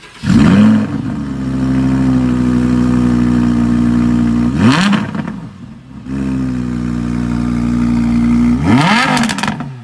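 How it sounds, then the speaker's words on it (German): A loud, deep 2019 Audi R8 facelift engine idles steadily, then blips into two sharp revs several seconds apart, each followed by a burbling drop back to idle. "Dieses schöne Knallen, das Blubbern hinterher, dieser richtig schön laute Sound im Stand."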